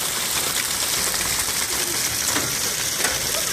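Onions, steak and kielbasa frying in a pan, a steady loud sizzle with bright crackling spatter that runs without a break, no voices over it.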